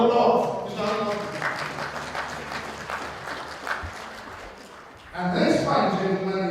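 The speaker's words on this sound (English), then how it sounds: "Please, a round of applause." Applause from the audience at a community forum's annual general meeting, a moderate wash of clapping that swells at the start, eases through the middle and rises again at the end, with voices mixed in.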